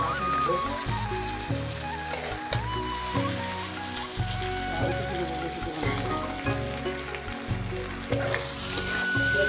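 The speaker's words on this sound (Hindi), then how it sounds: "चिकन जो है ना अच्छे तरीके से फ्राई हो चुका है" Chicken fries in a pan with a steady sizzle beneath talking and other rhythmic background sound throughout.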